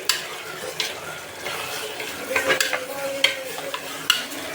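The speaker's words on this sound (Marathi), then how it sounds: "परतून घ्यायचं आहे।" Washed rice and spices being sautéed and stirred in a pan for khichdi: a quiet sizzle under irregular scraping and light metallic clinks of the spoon, fairly soft and close, without speech.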